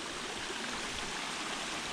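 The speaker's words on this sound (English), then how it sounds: "this is the middle fork of the Helton Creek. So you can see it coming down right over there." Creek water flowing at the middle fork of Helton Creek in the Mount Rogers area, a steady close rushing babble with no breaks and no voices.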